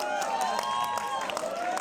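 An audience at a Delhi event for a film claps steadily in a continuous, fairly even wash of applause that stays level throughout, with no clear voices standing out.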